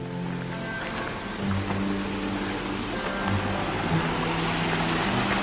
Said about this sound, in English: We hear water.